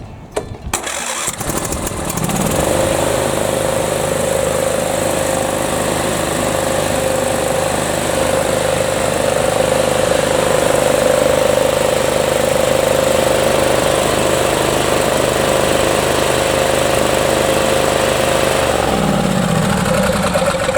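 A Briggs & Stratton twin cylinder engine is cranked, catches after a couple of seconds and runs at a steady loud idle, then drops off near the end, heard close up with no talk.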